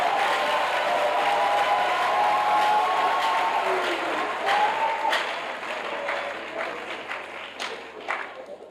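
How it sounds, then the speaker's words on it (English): A crowd at a university inaugural lecture applauds with steady, sustained clapping that gradually thins out toward the end, a few voices mixed in. "can we have a round of applause for Professor Adebisi Olonisakin?"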